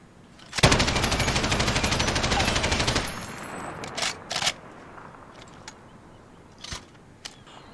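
A loud continuous burst of automatic gunfire from a video game gun spray lasts about two and a half seconds, followed by a few short isolated shots and quiet.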